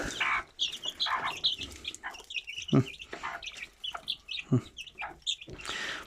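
Aseel chickens in a new coop cluck and call repeatedly at close range, with short bursts of louder squawks scattered across the steady chatter.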